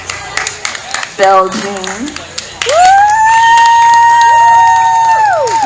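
Audience at a 2019 music awards ceremony claps and cheers for best band nominees, a dense burst of applause and shouts under an announcer's voice, with sustained tonal music swelling in partway through.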